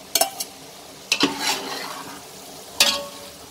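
Marinated paneer tipped into a pan of frying masala gives three sharp clatters against the pan, each followed by a soft sizzle and stirring scrape. The sounds are close, fairly quiet and separated by short pauses, with no talking.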